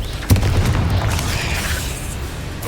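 A Confringo blasting spell explodes in Hogwarts Legacy, one sharp, loud boom near the start followed by a rushing, crackling tail that fades slowly under a low ambient rumble.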